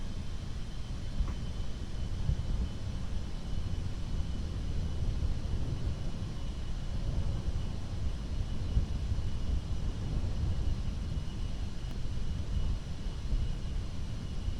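A Kerbal Space Program aircraft rolls down the runway for takeoff, a steady broadband engine roar and rush held at an even level throughout, with no talk over it.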